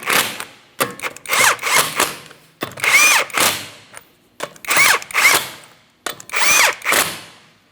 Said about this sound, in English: Once you have your wheel in place, start on all 5 of your 19mm lug nuts. We'll bottom them out.